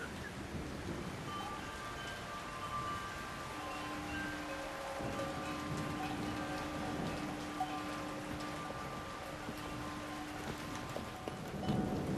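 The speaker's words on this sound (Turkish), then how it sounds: "yağmur Yusuf'un getirdiği bir berekettir" Steady rain falls in an even, close hiss, with a sustained musical tone running beneath it and a faint low rumble like distant thunder.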